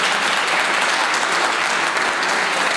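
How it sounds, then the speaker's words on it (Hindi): Sustained audience applause fills a college welcome party hall, dense and steady clapping from a large crowd throughout, loud and close with no break. "ज़ोरदार तालियों में उनका इस्तेमाल कीजिए।"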